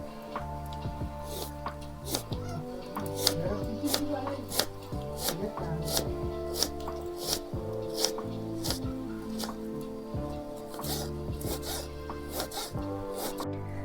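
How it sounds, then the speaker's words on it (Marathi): Onion being finely chopped with a knife on a board, a steady run of sharp, evenly spaced taps close up, with faint rubbing in between and no talk. "चला पहिलं मी आता कांदा कापून घेते बारीक बारीक कांदा कापायचा"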